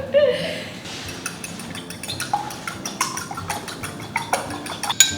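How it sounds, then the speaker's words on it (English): A single egg is beaten with a utensil in a bowl, a rapid run of light metallic clinks and taps close by, with faint background noise. "we're going to take 1 egg and we're going to beat it"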